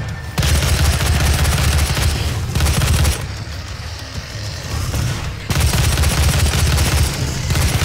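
Enemy gunfire in Doom, heavy booming bursts of rapid shots that come in loud stretches broken by short quieter gaps, with no voices present.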